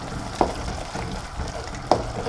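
Indomie noodles with a splash of soy sauce stir-frying in a pan, a steady soft sizzle with two brief louder scrapes of stirring about a second and a half apart.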